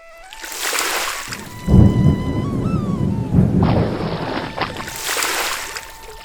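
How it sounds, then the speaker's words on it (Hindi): Thunder rumbles low and heavy through steady rain, with a loud crack-and-roll in the middle and a hissing downpour rising at the start and end. "बारिश हो रही थी।"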